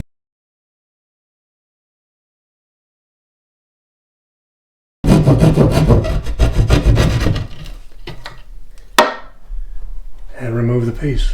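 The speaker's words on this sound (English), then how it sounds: "work your drywall saw into it" A drywall saw works through a drywall panel during a wall case installation: after five seconds of silence, loud, close rasping strokes start, then settle into softer, uneven scraping with a sharp knock partway through.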